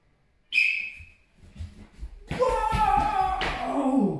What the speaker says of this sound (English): on my whistle, you're going to do a big kick